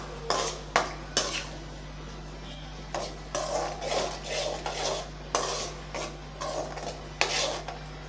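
A spoon scrapes and stirs mango chutney in a pan repeatedly, in uneven strokes over a steady low hum.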